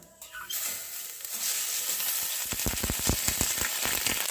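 Panch phoron and ginger hit hot mustard oil with a bright, steady sizzle that spits and crackles in quick popping bursts, close and continuous, while cauliflower singara filling is started.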